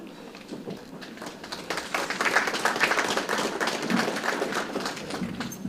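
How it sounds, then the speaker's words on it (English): Applause from mourners at a funeral service following spoken tributes, a steady, moderately loud patter of many hands clapping that swells midway and carries on to the end. "Absolutely deserves a round of applause, those beautiful tributes"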